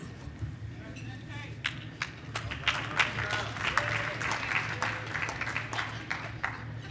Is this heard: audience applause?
yes